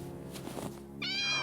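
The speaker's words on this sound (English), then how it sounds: "There's a cat stuck under the manhole." Cat trapped under a manhole, muffled at first and then giving one clear, rising meow near the end.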